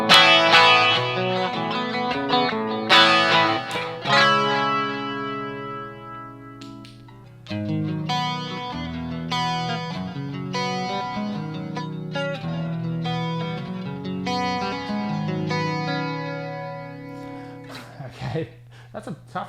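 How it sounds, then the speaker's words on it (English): An electric guitar played through a Roland Cube 30 practice amp from around 2005 on its clean channel, with chorus and delay effects, rings out in sustained strummed chords with shimmering echo tails, close and fairly loud, with a brief pause mid-passage. "This clean channel is based on some sort of Roland jazz amp, they say, so let's hear it."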